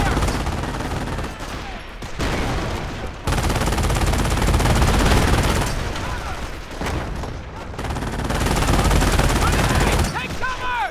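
Machine gun bursts rattle in the Company of Heroes video game, loud and sustained with brief gaps between fusillades, mixed with booms and battlefield noise, while voices call out over the fire.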